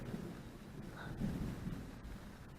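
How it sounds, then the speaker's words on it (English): Thunder rumbles low and steady through a rainstorm on an Algonquin canoe trip, a faint continuous roll with a slight swell midway, mixed with rain and wind noise and no talking. "Can you hear that? That's thunder."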